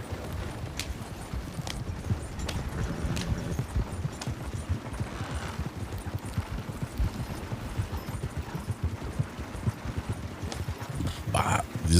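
Video-game horse hooves clip-clopping in a steady, busy rhythm, fairly close, over a noisy background, with brief sharp cracks near the end.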